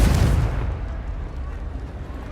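A Confringo fire spell blast in Hogwarts Legacy, a loud explosive boom at the start that fades into a rumbling low decay, with game sounds continuing underneath.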